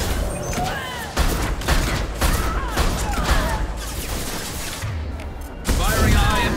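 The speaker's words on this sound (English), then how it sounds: "Firing a high impact shot." Mass Effect 2 combat crackles with rapid, repeated weapon fire and impacts, loud and close, in steady bursts with a heavier thump near the end, while a voice talks throughout.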